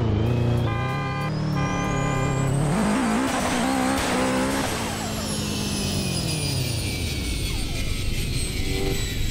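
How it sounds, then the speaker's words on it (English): A 2000hp Subaru Legacy in the Roblox game roars loudly and continuously, with a rising turbo spool whine sweeping upward over the engine drone and then holding as a high, steady whistle. "the turbo noise doesn't go with RPM like it does on half the other Roblox cars"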